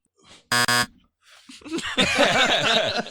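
A game-show style buzzer button blares once, a harsh harmonic tone lasting about half a second, after a faint sound; lively talk and laughter follow.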